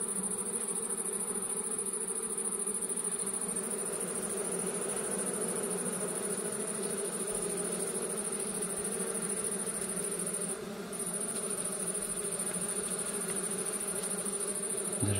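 Honeybees drone in a dense, continuous buzz while being swept off a honey frame during honey extraction, steady and close with no voices.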